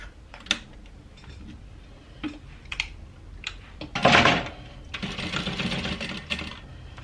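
A sewing machine stitches handbag panels at a 3/8 inch seam in short, fairly faint bursts of mechanical whirring and clicking, with a longer run near the end.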